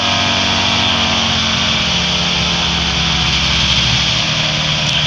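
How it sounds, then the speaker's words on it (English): A light aircraft engine drones steadily at very low RPM during a descent toward landing, loud and close with a constant low hum and no break. "I want to maintain a nice steady drop with engine at very, very low RPM"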